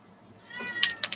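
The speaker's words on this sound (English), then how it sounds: "I'm gonna go let my cat out real quick because he meowing real bad." A house cat gives a single short, rising meow close by in a quiet indoor room.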